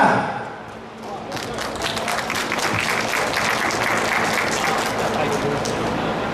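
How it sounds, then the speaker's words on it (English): Audience at a political fundraiser breaks into applause for a doctor being introduced, many hands clapping in a dense, steady wash after a brief voice at the start. "Please give applause to Dr. Joseph."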